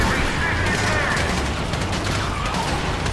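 Gunfire in a GTA 5 heist shootout, a dense, continuous barrage of rapid shots and crackling fire at steady loudness, with voices talking over it.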